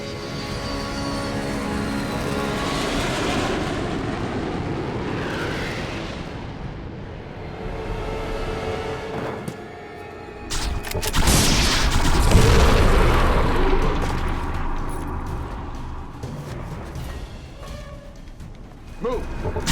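Heavy booming blasts and rumbling detonations from a bombing run in a sci-fi alien invasion battle, loud and sustained with a big surge midway, layered over dense roaring effects and music.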